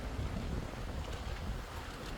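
Strong gusty wind sweeps across a lakeside resort pool, a loud, low, continuous roar and buffeting against the microphone with no other sounds.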